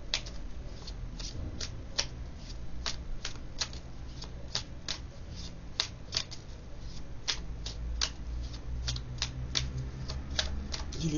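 Tarot cards are shuffled close up in a steady run of crisp riffling snaps, with quieter flicking in between and no voices.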